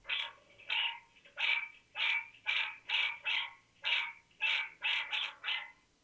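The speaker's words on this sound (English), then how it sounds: "the dogs are barking." A dog barks repeatedly in a steady rhythm, about a dozen sharp, fairly close barks with short gaps between them.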